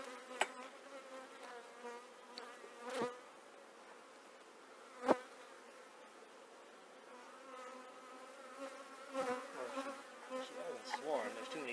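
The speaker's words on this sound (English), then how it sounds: "There's too many bees in here" Dense, steady buzzing of many honey bees inside an open hive during an inspection, a continuous droning swarm with occasional louder passes close by and brief knocks from handling frames.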